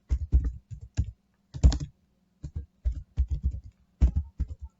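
Computer keyboard keys clatter in quick, close bursts with short pauses between them, typed while writing PHP backend code for a web form, with no one speaking.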